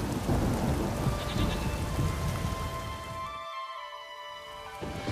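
Steady rain pours with rolling thunder in The Witcher 3, a dense wash of downpour with low rumbles that ease off near the end.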